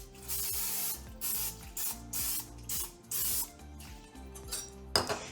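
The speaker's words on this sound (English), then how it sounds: "I'm gonna go ahead and just spray my crock pot." Nonstick cooking spray hisses into a crock pot in a series of short bursts, each about half a second, separated by brief pauses, ending with a small clink.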